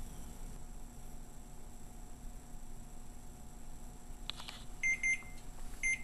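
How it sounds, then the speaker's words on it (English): A faint electronic kitchen timer beeps in short repeated bursts near the end, while French press coffee brews, after a stretch of quiet room hum. "And the timer's going off."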